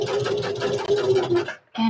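A sewing machine stitches a kids' cotton reversible face mask, a close, loud, steady whirring hum that cuts out abruptly, pauses briefly, then starts again.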